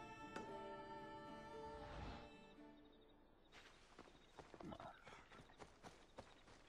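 Horse hooves clip-clop in Assassin's Creed Odyssey, a quiet run of uneven footfalls in the latter half after a sustained musical tone fades out.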